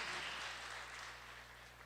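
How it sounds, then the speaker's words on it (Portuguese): Congregation applauding at a church service, a dense wash of clapping that is steady and fairly loud at first, then eases slightly toward the end with no voices on top. "Dá uma aplauso forte a Ele"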